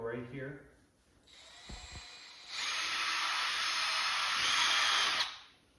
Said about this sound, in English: drill in those last two holes